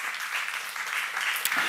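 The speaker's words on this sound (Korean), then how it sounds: "박수 한번 주세요" Audience at a church seminar claps steadily in a dense, continuous wash of applause, short and even in loudness.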